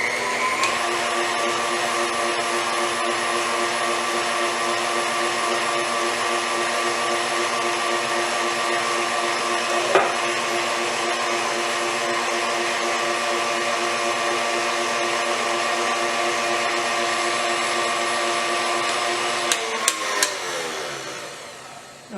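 KitchenAid stand mixer motor driving a spiralizer attachment through a zucchini, a loud steady whirring hum held for about twenty seconds with a few small clicks, stopping near the end.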